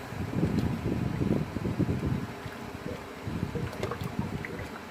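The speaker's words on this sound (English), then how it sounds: "Let's give this a good stir." Chicken tortilla soup is stirred in a pot, giving soft, irregular sloshing and scraping strokes close by, with no voices.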